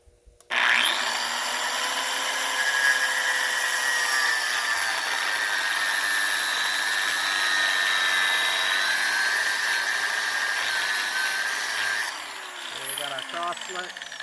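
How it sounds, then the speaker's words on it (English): An air hammer with a chisel cuts rivet heads off the steel frame of an M35A2 truck, a loud, sustained buzzing rattle that starts abruptly and runs steadily before easing off near the end. "That's going to give you the easiest and smallest cross section to cut off with your air hammer and chisel."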